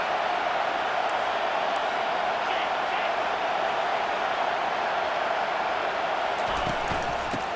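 A steady, loud stadium crowd roar fills an EA Sports College Football 25 game, a constant wash of cheering that never lets up.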